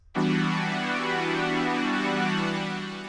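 A deep house synth pad chord from a Sylenth1 preset swells in abruptly and sustains, warm and rich with shimmering harmonics, slowly fading toward the end.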